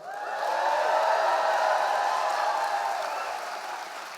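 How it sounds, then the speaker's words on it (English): A university convocation audience cheers and applauds, a broad swell of clapping and crowd noise that rises quickly, holds loud for a few seconds, then tapers slightly. "If so, let me hear a big cheer."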